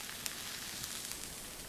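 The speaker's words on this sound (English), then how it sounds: "we're gonna go ahead and get the sausage browning" Sausage browns in a pan over a low flame, giving a faint, steady sizzle with scattered small crackles and pops throughout.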